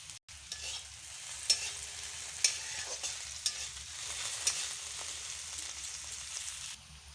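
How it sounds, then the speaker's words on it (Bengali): Chopped onions fry in oil for a chicken kosha, a quiet continuous sizzle broken by a few sharp taps and scrapes of stirring, with no voices. "পেঁয়াজ কুচি পেঁয়াজটাকে ভালো করে ভেজে নেব"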